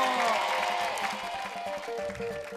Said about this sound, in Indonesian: Ya, kasih tepuk tangan buat Rapi dan Ade Nangno.